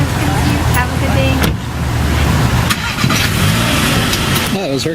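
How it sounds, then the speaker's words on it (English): A Volkswagen GLI starts up and pulls away, its medium engine note rising under nearby traffic noise, with people talking over it. "Oh, that was her car."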